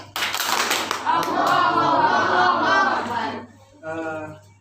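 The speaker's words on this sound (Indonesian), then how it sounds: "Tepuk semangat." A group claps together in a quick patterned rhythm, loud and close, with voices chanting along, then a short final burst of clapping.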